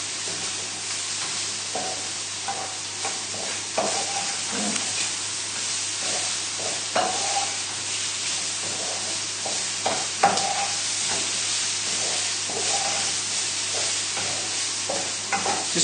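Bacon and mushrooms frying on high heat in a pan, a continuous loud sizzle with repeated scraping and clattering as they are stirred around to keep them from sticking, no voices.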